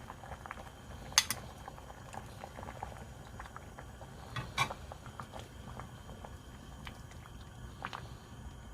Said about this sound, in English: Now I'm gonna boil it for 5 minutes.